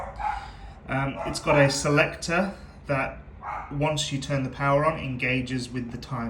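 Dogs bark indoors in a home, short yapping bursts mixed under a person's ongoing talk about a dishwasher.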